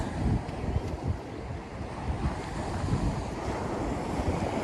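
Heavy surf rumbles and crashes continuously, with wind buffeting the microphone and no voices.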